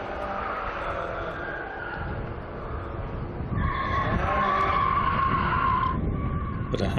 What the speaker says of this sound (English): Bit of handbrake action and lots of right foot.